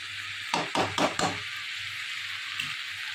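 Sweet pumpkin curry sautéing in a pan, a steady hiss of frying under a few quick scraping stirs near the start, then settling back to a constant sizzle.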